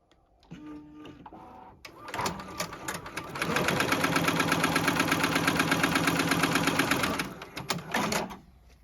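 JUKI embroidery machine stitching a placement line, starting up with a few whirs, then running in a loud, rapid, steady mechanical chatter for several seconds before slowing and stopping.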